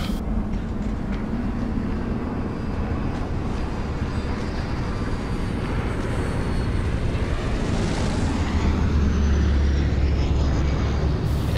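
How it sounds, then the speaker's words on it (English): A propeller airplane drones overhead in the Dying Light video game as it flies in for an airdrop. The engine roar is loud and continuous, and its pitch slowly shifts as the aircraft passes. "Aeroplane? Probably gonna be an airdrop somewhere."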